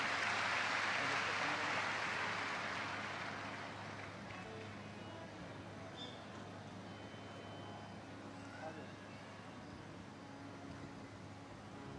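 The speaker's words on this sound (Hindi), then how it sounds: "जोरदार तालियां।" An audience at a Shiv Mahapuran katha in Vaijapur breaks into loud, dense applause that fades over the first few seconds into a low murmur of crowd noise and voices.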